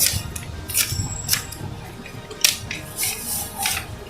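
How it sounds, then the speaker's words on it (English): A paper award envelope is torn open at a college student awards ceremony, making several short crisp rips and rustles near the microphone with no speech. "for the award in math, I'm opening the envelope"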